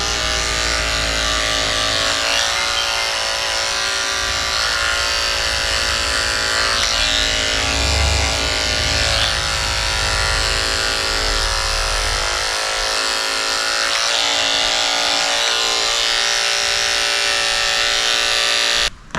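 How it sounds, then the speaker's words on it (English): Electric clippers buzz steadily and loudly at close range while shaving the hairy foot pads of a senior Shih Tzu during grooming. The motor whine holds for the whole stretch, and its tone shifts slightly as the blade works. "I'm shaving the pads of his feet out."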